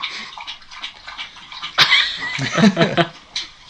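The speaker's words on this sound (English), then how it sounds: "It's my dog drinking a ton of water." A dog lapping up a lot of water, with wet splashy laps in a quick, uneven run, close and moderately loud, and brief speech-like sounds mixed in.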